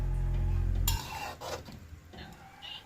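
Mutton curry with raw papaya and potatoes stirred in a pot, a low hum giving way to soft scraping and rubbing strokes of a spoon against the metal, quiet and close.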